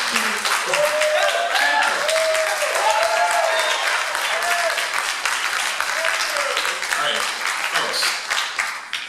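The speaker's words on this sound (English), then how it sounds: "if we could try to keep the applause down a little bit" Audience at a neighborhood candidate debate breaks into steady applause, with a few cheering voices rising above the clapping throughout.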